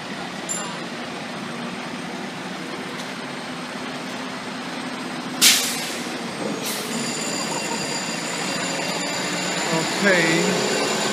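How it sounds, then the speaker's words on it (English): New FDNY Tower Ladder 1 fire truck rolling past on a city street, a loud continuous engine roar with sharp air-brake hisses, tonal beeping and a person talking over it. "I want to get as far away as possible because that's a big truck."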